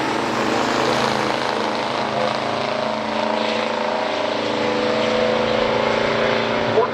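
A 1974 Chevy Chevelle with a 454 engine in a pure stock drag race gives a loud, sustained engine roar that holds a steady droning tone for several seconds.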